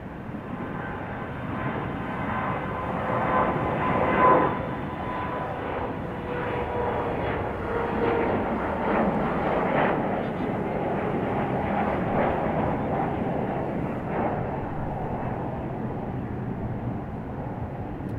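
An American Airlines Embraer E175 jet at Raleigh-Durham International Airport gives a steady, moderately distant engine roar with a broad whine, holding level throughout with no talk.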